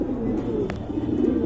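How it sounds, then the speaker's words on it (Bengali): A male pigeon of Andalusian colouring coos steadily at close range, a low throaty rolling call that runs through the whole moment with no voices over it. "দেখেন আপনারা ডাকতেছে এটা নর না ভাই?"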